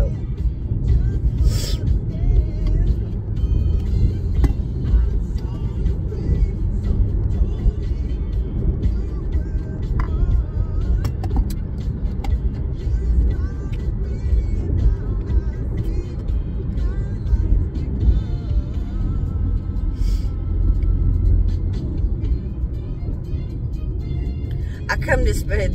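A car driving on a road on a morning commute gives a steady, loud engine and road rumble throughout, with music playing and a voice talking over it.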